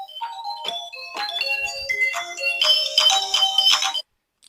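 A mobile phone ringtone plays a bright, bouncy electronic melody of quick chiming notes, close and clear, for about four seconds before cutting off abruptly into silence.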